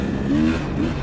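A 2021 KTM 300 XC dirt bike engine bogs low and uneven as it nearly stalls, a close, rough idle-level burble with no voices.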